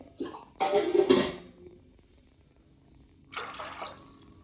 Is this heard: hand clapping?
no